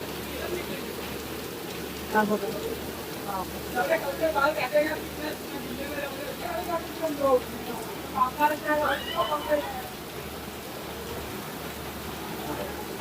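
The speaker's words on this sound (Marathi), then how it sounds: "बाहेर पाऊस खूप मस्त पडतो आहे" Rain hisses steadily outside while a voice talks intermittently over it, the downpour continuing as a constant background wash.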